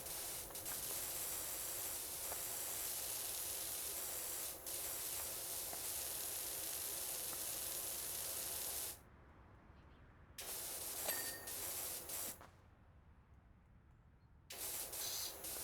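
A pressure washer fitted with a wider, non-fine nozzle sprays in a loud, steady hissing blast for about nine seconds, then cuts out and restarts in shorter bursts separated by quiet gaps.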